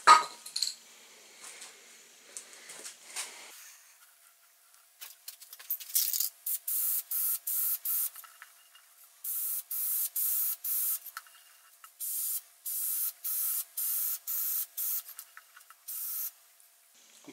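Rapid bursts of spray paint hiss from an aerosol can as a go-kart frame for a 110cc build is painted, with several short sprays followed by longer regular bursts separated by brief pauses, close and fairly loud with light clinks early on.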